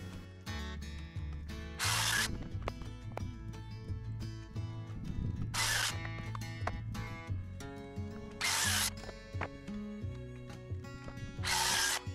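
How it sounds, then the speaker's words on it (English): A power saw cuts several wooden framing studs for an interior room on a ranch, with four short loud bursts of bright cutting noise spaced a few seconds apart over a steady lower mechanical hum, heard close. "It helps me cut through several studs of the same length pretty quickly and a lot more efficiently."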